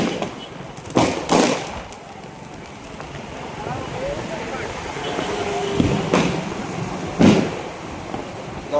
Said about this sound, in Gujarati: આપણું કહેવું છે કે ફટાકડા આવી રીતે ફોડવા જોઈએ